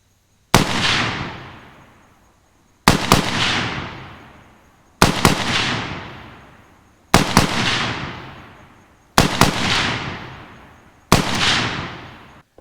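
Six loud shots from an Ohio Ordnance 1918A3 BAR rifle fired outdoors at roughly two-second intervals, each sharp crack followed by a long rolling echo that fades before the next.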